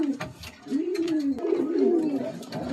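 A female pigeon from a Kolkata bloodline coos nearby, a low, throaty, rising-and-falling coo repeated over a few seconds with faint handling noise.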